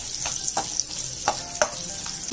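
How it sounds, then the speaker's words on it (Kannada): Chopped onion frying in hot oil in a pan, a steady close sizzle broken by a few soft scraping stirs. "ಒಂದು ಆನಿಯನ್ ಚಿಕ್ಕದು ಚಾಪ್ ಮಾಡ್ಕೊಂಡಿರೋದು ಹಾಕೋಬೇಕು. 1 ನಿಮಿಷ ಫ್ರೈ ಮಾಡ್ಕೋಬೇಕು."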